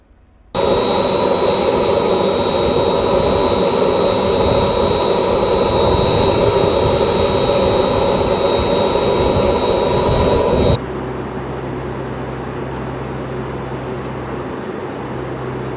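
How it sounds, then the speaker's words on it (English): Loud, steady roar of the jet engines aboard a NOAA G4 research jet in flight during a 2005 Hurricane Katrina mission, with a thin high whine over a broad rushing drone that drops to a quieter cabin hum near the end. "I caught a ride on the NOAA G4 jet."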